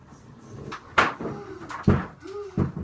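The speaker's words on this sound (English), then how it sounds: "Y'all be slamming doors and carrying on." Doors and cupboards in a house bang and thump sharply several times, separated by short pauses, with a voice speaking faintly in between.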